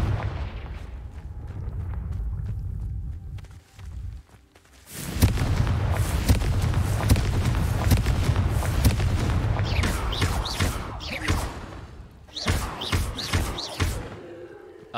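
Confringo fire spells bursting in the Hogwarts Legacy video game as a run of loud, heavy booming blasts and crackling impacts, clustered in bursts over continuous game noise with a voice talking in places.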